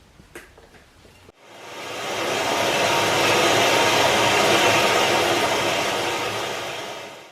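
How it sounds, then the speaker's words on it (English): A power saw cutting small chunks off a large steel pipe while building a truck-wheel fire pit, starting after a few light clicks and then running as a loud, sustained grinding whine that fades slightly toward the end. "So we're just cutting 3 chunks of this off."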